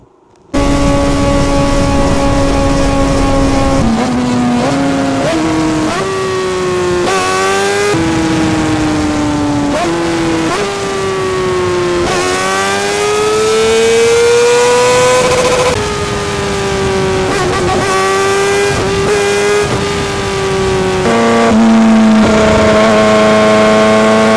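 A Kawasaki Ninja ZX-4R motorcycle engine runs loud and close on a ride, its high-pitched whine rising and falling steadily through repeated gear changes and throttle swells, with no talking.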